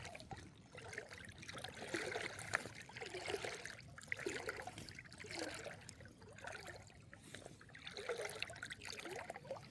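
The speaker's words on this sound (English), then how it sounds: "this is where the creek runs out into the bay" A creek trickles out into a bay along a shoreline, a faint, gentle, continuous burble of moving water with soft rising and falling swells.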